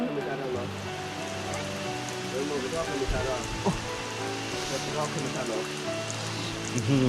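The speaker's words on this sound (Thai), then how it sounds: "ฝนตกทั้งวันทั้งคืนนะครับผม" Heavy rain pours steadily in the morning at a rural family home in Thailand after a cold, windy night, a dense continuous patter close by, with a voice speaking over it.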